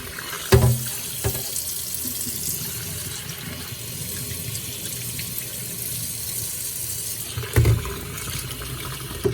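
A kitchen tap runs steadily into a sink while rice is washed for cabbage rolls, a continuous close splashing stream with louder bursts near the start and toward the end, no voices.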